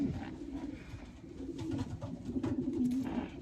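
A loft of racing pigeons coos with low, rolling calls that swell toward the end, close and steady, and no one talks.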